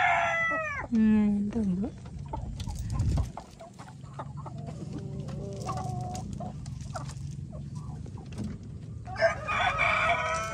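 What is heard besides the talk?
chicken clucking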